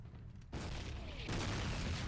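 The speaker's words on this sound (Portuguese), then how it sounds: "Eita, explosão." An explosion in Call of Duty 2, the PC World War II shooter on Veteran difficulty, set in France: a sudden loud boom bursts in about halfway through, followed by sustained rumbling battle noise and a second surge of blast sound near the end.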